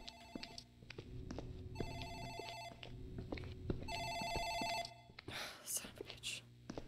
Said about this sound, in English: Phone in the office ringing.